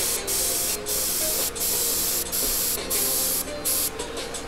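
An airbrush sprays paint at about 20 psi in short repeated bursts of sharp hiss, with brief quiet gaps between each burst, heard up close with no talking.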